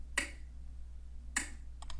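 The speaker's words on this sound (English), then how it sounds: "So I'm going to snap this twice." Two sharp finger snaps recorded on a smartphone microphone, about a second apart in a quiet room, followed by a faint double click.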